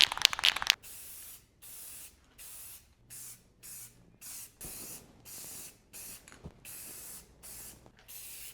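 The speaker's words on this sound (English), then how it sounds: "All right, let's get this painted." A twisted rebar stool is spray painted in a run of short, even bursts of aerosol hiss, about a dozen pulses separated by brief pauses, close and steady.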